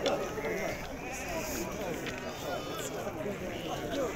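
Sheep bleat amid the busy bustle of a livestock market, with scattered calls and shuffling under loud, overlapping voices of people talking nearby.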